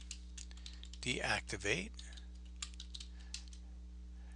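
Computer keyboard keys click in a quick, scattered burst as a command is typed, close and crisp, with a person speaking briefly over the typing.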